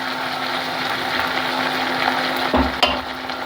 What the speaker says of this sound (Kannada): ಇದು ಫ್ರೈ ಆಗಲಿ